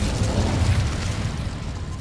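Incendio fire spell cast in a Harry Potter video game on PS5, a loud, sustained whooshing roar of magical flame, dense and continuous with a low rumble throughout.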